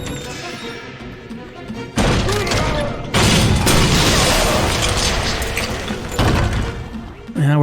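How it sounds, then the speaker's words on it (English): Rocket launcher blasts in Resident Evil 2 Remake land as loud booming explosions at roughly two, three and six seconds, each leaving a sustained roar of debris and rumble, with game sounds filling the gaps. "I could use the rocket launcher. Maybe I should use the rocket launcher."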